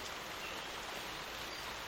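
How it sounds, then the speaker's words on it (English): Rain falls at about freezing point, turning between rain and snow, a dense, even hiss that holds steady throughout with no voices. "It's about 0 degrees and it keeps alternating between rain and snow."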